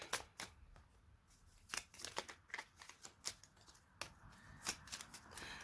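Tarot cards are shuffled and riffled close by, giving faint soft papery flutters and flicks in uneven bursts over a quiet background hiss.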